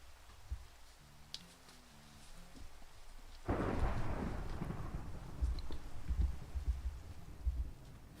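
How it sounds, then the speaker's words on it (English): Thunder rumbles in Minecraft: a sudden loud crack around the midpoint gives way to a long, heavy rolling rumble with rain-like hiss, preceded by quiet soft game tones. "I hear thunder."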